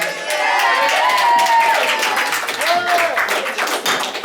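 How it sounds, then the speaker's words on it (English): Wedding guests at a reception break into a round of applause for a toast, a dense, steady wash of clapping and crowd noise lasting throughout, with voices rising over it. "Could we give her a round of applause?"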